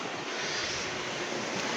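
Sea water washes up a beach and runs into narrow gaps between rocks, a steady rushing wash with wind noise, loud and continuous over a short stretch.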